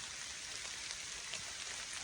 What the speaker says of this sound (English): I'm hoping this weather gets them fired up too. This temp drop, rain.